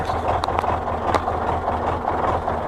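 An MTZ 82 tractor engine with a suspected cracked shaft idles steadily at low revs, a continuous low rumble close by with faint clicks and knocks over it and no talk.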